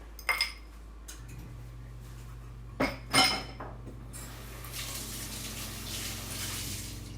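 Egg-covered hands are rinsed under a running tap while gluten-free crepes are being made: a few sharp clinks of dishes come first, then a steady close rush of running water fills the second half.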